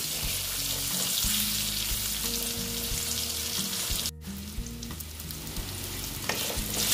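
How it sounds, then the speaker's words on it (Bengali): Potato pieces tossed with turmeric fry in a pan with a loud, continuous sizzle and occasional stirring scrapes. A faint tune plays underneath and no one speaks. "আমি একটু হলুদ দিয়ে দিলাম, দিয়ে আলুগুলো ভালো মতন ভেজে নিচ্ছি।"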